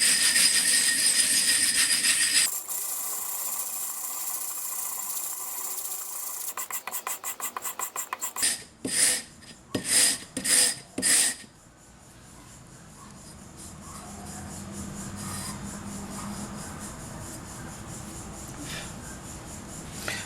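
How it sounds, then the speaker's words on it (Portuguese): Wet sandpaper rubbing the cut edge of a glass bottle: a hissing scrape at first, then a run of quick back-and-forth strokes and several slower swipes, fading into a softer, steady rubbing, close and without talk. "A gente molha a lixa, mantém ela sempre molhada e vamos fazer a lapidação."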